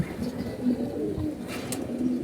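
A male fancy pigeon coos close by in several soft, throaty, rolling phrases, with faint background noise and no talk.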